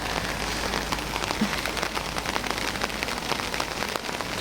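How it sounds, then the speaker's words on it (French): Steady rain falling outdoors on a wet morning in southern Africa, a dense continuous patter of drops hitting surfaces, even and moderately loud throughout with no voices. "Et bah ce matin on repart avec la pluie."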